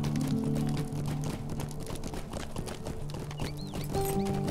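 Rhythmic clip-clop of horse hooves trotting in a video game over a steady backdrop of game music, with a brief whinny near the end.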